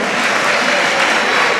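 Applause from the crowd at an amateur boxing event, a continuous loud wash of clapping with no gaps.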